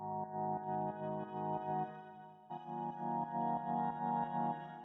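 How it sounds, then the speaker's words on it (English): A soft sustained synth pad chord drones in the background of a produced beat, faint and steady, with a gentle pulsing rhythm and a chord change midway, no voices. "so I added this pad in the background."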